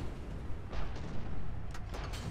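Tank cannon firing in the War Thunder game, on a Rank 2 German tank with an upgraded gun: several muffled booms and thuds over a constant low engine rumble, with no voices.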